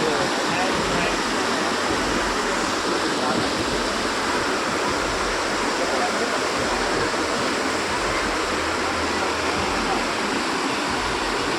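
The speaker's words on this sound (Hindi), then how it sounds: "राजधानी देहरादून में लगातार बारिश हो रही है, जिस कारण नदी नाले उफान पर हैं" A rain-swollen river rushes through Dehradun during heavy monsoon rain, a loud, continuous roar of churning water that holds steady throughout with no pauses.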